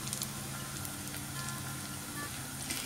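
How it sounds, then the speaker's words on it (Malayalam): Onions and green chillies sauté in a pan for a Kerala-style tuna curry, a steady, moderately quiet sizzle and crackle with occasional faint clinks and no speech. "ഇതെല്ലാം കൂടി നന്നായിട്ടൊന്ന് വഴറ്റിയെടുക്കാം."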